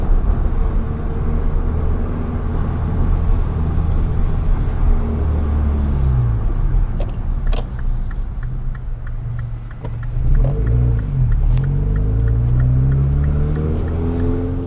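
A 2008 MINI Cooper S JCW engine rumbles steadily at close range while driving through a warehouse district, with the pitch shifting as it revs and slows, plus a few faint clicks along the way.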